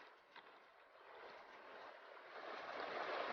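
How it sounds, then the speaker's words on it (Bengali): A strong current of flowing water rushes at Samsing in the Dooars, a broad steady hiss that swells gradually louder, heard alone without voices. "সলিড সলিড জলের স্রোত দেখো"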